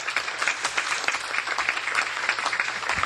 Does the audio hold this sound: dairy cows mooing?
no